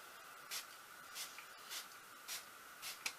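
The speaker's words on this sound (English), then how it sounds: "just spray it on a little bit in your face" A face mist bottle gives five or six short, soft hissing sprays at a fairly even pace, each a brief breathy burst close by in a quiet room.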